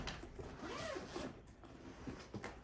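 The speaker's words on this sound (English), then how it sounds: "zippers, very, very smooth on here." A zipper slides open along a Legacy travel bag in a smooth, steady, close-up pull with a few small clicks near the end, quiet and alone.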